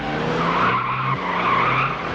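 A car skids in a film scene, tires squealing in a sustained, loud screech that wavers in pitch and keeps going through most of the moment.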